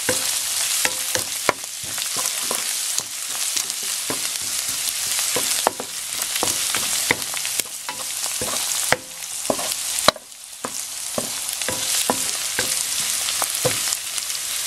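Ground pork and ginger frying in a pan for mapo doufu, a constant loud sizzle broken by frequent sharp scrapes and clacks of a utensil stirring the meat.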